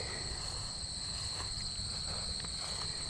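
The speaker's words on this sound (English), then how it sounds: "count the number of cricket chirps in 15 seconds" Steady high-pitched cricket chirping fills the background on a hot prairie, a continuous insect trill with faint rustling below, no voices.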